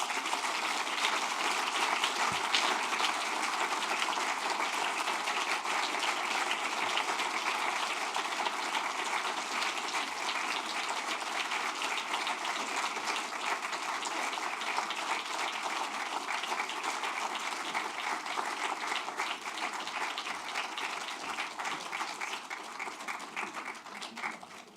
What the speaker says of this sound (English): come up and collect it and get a round of applause